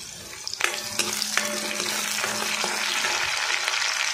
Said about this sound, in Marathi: आवाज किती छान येतो बघा कांद्याचा